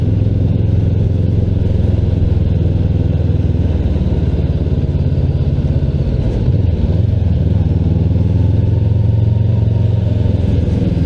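A Honda CB500X adventure motorcycle ridden through Baguio traffic, its engine droning loud and steady with wind rush for the whole stretch, a slight dip in pitch midway.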